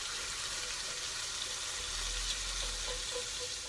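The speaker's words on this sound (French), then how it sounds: "Je mets du vinaigre de vin blanc au fond de la casserole." White wine vinegar sizzling in the bottom of a hot saucepan while making chicken colombo, a steady close hiss and crackle with faint stirring or liquid movement, no talking.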